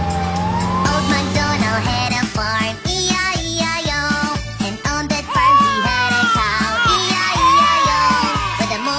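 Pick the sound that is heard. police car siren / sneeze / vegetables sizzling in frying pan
police car siren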